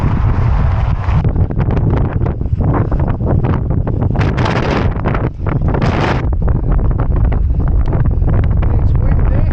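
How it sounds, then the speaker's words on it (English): Strong wind buffets and roars over a microphone on a ridge near Pen y Fan in South Wales, steady and loud throughout with gusting surges, and no clear speech. "It's windy."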